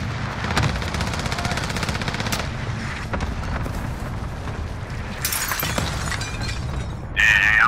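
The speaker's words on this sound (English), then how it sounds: "Oh, they shooting." Gunfire in an online shooter game: dense, continuous bursts of shots and impacts run throughout at close range, with a sharper crackling burst near the end.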